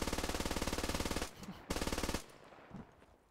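Rapid, heavy automatic bursts from a .50 cal machine gun in the military shooter game Squad, two long strings of rapid shots, loud and close, with a short gap between them.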